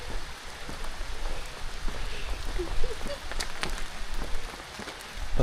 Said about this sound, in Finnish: Tällaisista vesisadehommista ei nyt sit ollut kyllä minkäännäköistä sopimusta.